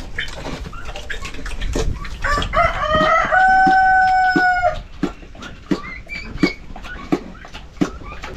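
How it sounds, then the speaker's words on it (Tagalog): Tatay Riot's rooster crows once at close range, a loud harmonic cock-a-doodle-doo lasting about two seconds, framed by scattered clucks, taps and farmyard clatter before and after. "Manok ni Tatay Riot"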